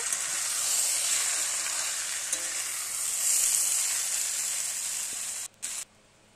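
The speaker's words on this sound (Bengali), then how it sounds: "লোটে মাছ দিয়ে দেখো একটু ভালো করে মশলার সঙ্গে মাখিয়ে নেব" Loitta fish and potatoes fry with spices in a pan, giving a loud, continuous hissing sizzle that drops off abruptly near the end.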